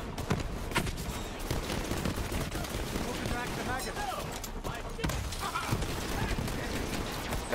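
Dense gunfire rings out during combat against robots in the video game Borderlands 3, with rapid shots, impacts and explosions layered over game effects, while a person talks over the action.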